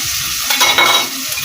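Small fish frying in a worn pan over a wood fire, a steady close crackling sizzle that swells briefly in the middle and runs throughout, with no talking.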